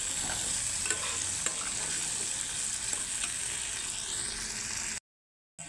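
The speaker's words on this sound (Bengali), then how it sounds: "দিয়ে এখন আমি আলুগুলো ভাজবো। এমনভাবে ভাজবো যেন আলুগুলো সেদ্ধ হয়ে যায়।" Potatoes fry with turmeric in a pan over a low flame, giving a steady close sizzle with scraping stirs, then a sudden drop to silence near the end.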